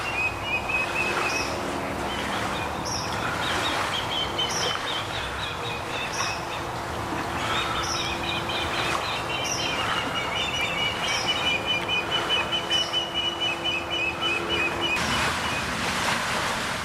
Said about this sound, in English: They sure are noisy birds.